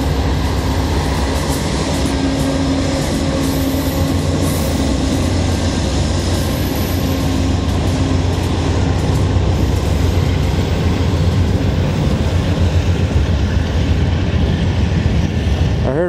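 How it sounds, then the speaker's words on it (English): A late-night Via Rail passenger train rumbles past in Montreal, a loud, steady roar of wheels and engine holding for the whole stretch with no pause. "Here comes another train. Ah, late night Via."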